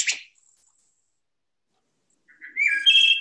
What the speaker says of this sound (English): Here's the robin.